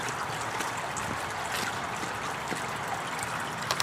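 Water trickles steadily from a spruce-base patio and deck fountain, a continuous close splash and babble with no talk.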